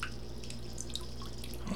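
Naphtha flows through thin clear silicone tubing as a steady trickle with faint drips over a constant low hum, close and continuous.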